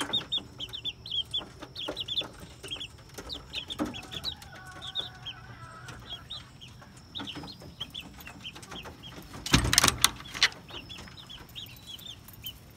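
Kelso game chickens cluck on a farm, many short bursts of clucking near and far in a busy chorus, with a rooster-like call midway and a loud close rustle near the end.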